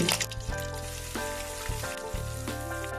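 Small dried fish fry in hot oil with a soft, continuous crackling sizzle, faint and close, alongside a steady tonal hum and brief thumps.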